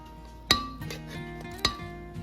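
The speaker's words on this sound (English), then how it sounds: "I'm taking the pumpkin and I'm putting it into a cold pot" Pumpkin going into a cold pot in a kitchen: two sharp metallic clanks ring out about a second apart, each leaving a brief resonant hum from the pot.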